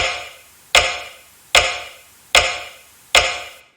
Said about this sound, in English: I just use the sound of a clock ticking